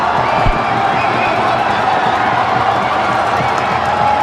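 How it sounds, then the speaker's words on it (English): Sri Lankan fans roar and cheer in a packed stadium during a Hong Kong Sixes cricket match, a loud, continuous crowd din with whoops and scattered shouts throughout. "just listen to the roar from the crowd"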